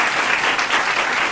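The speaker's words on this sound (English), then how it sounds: "Let's give them a round of applause." A crowd at an advocacy day event applauds child care providers, a loud, dense, continuous burst of clapping heard up close with no talk over it.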